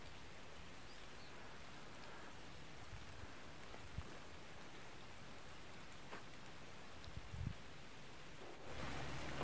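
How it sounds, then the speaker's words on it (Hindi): Rain falls in the high mountains of Gilgit-Baltistan, heard from beneath an apricot tree as a faint, even hiss with a few soft drips and a slight rise at the end. "जी बारिश जी हो गई फिर शुरू"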